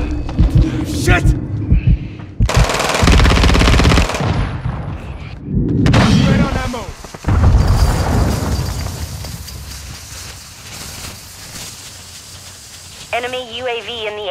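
Gunfire in Call of Duty Modern Warfare 2 on PC comes in loud bursts of rapid automatic shots with blasts and hissing, mixed with shouted in-game voice callouts, then fading to quieter ambience near the end.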